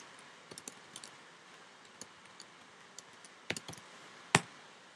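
Typing on a computer keyboard, with sparse, quiet key clicks scattered across a near-silent background and a sharper, louder tap near the end.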